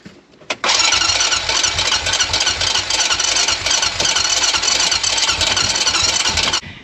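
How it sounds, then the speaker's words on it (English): A Honda engine cranks without catching, a continuous loud starter churn with a clicking, rattling noise running through it for several seconds before it cuts off, close and alone. "It's making sort of like a clicking, rattling sound in the engine, which is not good"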